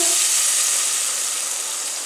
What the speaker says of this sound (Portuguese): o óleo esfriou, aí eu coloco a água bem devagarzinho